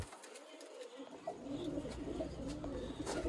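Black-faced pigeons coo softly in low, repeated calls against a constant background hum, with a few chirps mixed in.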